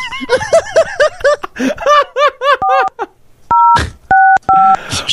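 Several pairs of steady dual-tone telephone beeps, each lasting a moment with short gaps, follow a stretch of laughter and giggling.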